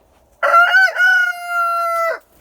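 A rooster crows once, loud and close: a few choppy notes, then a long sustained call that cuts off.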